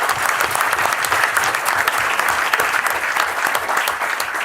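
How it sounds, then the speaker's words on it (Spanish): Warm, sustained applause from a conference audience at a tax congress in Buenos Aires as a speaker is welcomed to the podium; loud, dense clapping from many hands, steady throughout. "le brindamos un fuerte aplauso"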